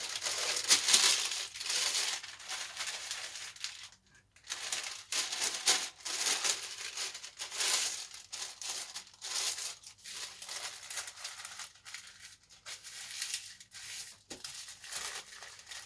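Close, irregular crinkling and crumpling of paper being fitted into a cake tin, with occasional tearing rips, in bursts separated by brief pauses.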